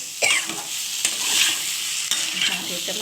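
Spice masala for a cauliflower, potato and fish curry sautéing in a pan, a close, steady sizzle broken by a few sharp spatula scrapes, no speech.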